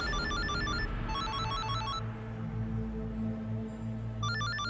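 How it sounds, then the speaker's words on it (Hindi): Mobile phone ringtone, a repeating electronic chime in short bursts that stops briefly and then resumes, moderately faint over a low steady hum in a tense indoor scene. "फोन की आवाज कहाँ से आ रही?"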